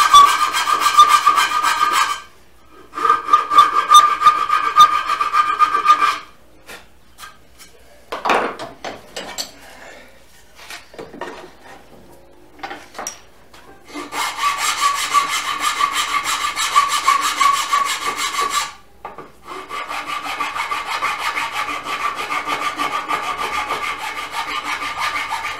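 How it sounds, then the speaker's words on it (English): A file scrapes back and forth over a freshly cut wooden tenon, smoothing it in several long bursts of rough rasping separated by short pauses, loud and close with no voices. "Then just use a file to tidy it up."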